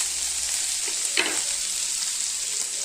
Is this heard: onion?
yes